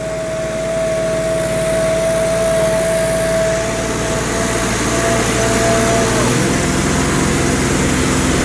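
A tractor pulling a rotavator through a field being prepared for sugarcane runs with a loud, steady engine drone, its pitch dropping lower near the end as the revs fall.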